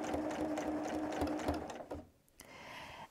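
Sewing machine free-motion quilting along the edge of a quilt, a steady close mechanical needle chatter that drops away briefly near the end and then resumes, with no talking.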